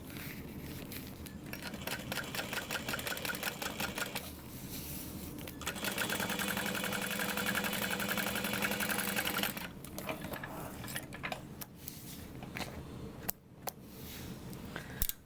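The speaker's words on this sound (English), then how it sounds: "I'm gonna fold this up and top stitch through" A sewing machine top stitches through folded vinyl on a bubble bag, running in several close, steady bursts separated by short pauses.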